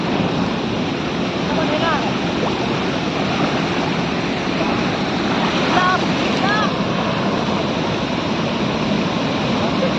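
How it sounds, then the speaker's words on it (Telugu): Chitrakoot waterfall roaring as a steady, dense wash of rushing water that fills the whole clip without a break, with a few faint voices barely showing through. "water falls"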